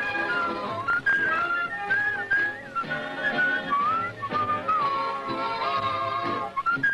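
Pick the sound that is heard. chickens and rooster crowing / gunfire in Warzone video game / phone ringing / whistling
whistling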